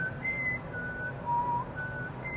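Someone whistles a few thin, sustained notes with short gaps between them, steady against a constant hum of background noise in a workshop with a glass furnace.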